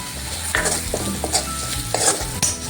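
Onion sautéing with ground paste and dry spice powders in a pan, a loud close sizzle broken by several sharp stirring scrapes and spoon knocks against the vessel, no talk.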